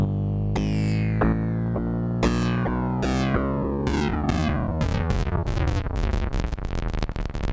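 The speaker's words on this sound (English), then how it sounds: "As I increase it, you will hear the clock, the sample rate going down and the frequency going up" An EMS Synthi synthesizer with its clock sample rate lowered and frequency raised, producing repeated descending glissando sweeps that grow faster and denser into a buzzing, aliased wash, loud and continuous with no voices.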